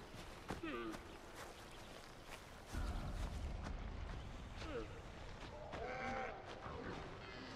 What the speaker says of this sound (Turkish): Keçi mi bunlar?